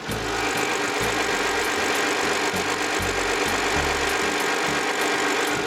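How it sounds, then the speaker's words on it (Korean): An LPG car engine idles close up, a steady hum with a faint regular pulsing rhythm and no talking. "엔진 소리 한번 들어보겠습니다"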